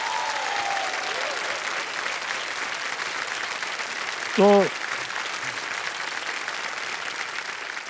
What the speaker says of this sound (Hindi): फास्टेस्ट बजर फर्स्ट के साथ तालियां बज जाए उनके लिए